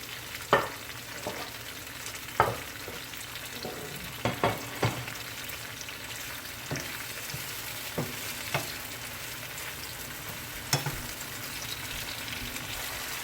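Green plantains frying in a pan, Jamaican style, giving a steady low sizzle with a few sharp clinks of stirring at irregular intervals, close by and with no voices.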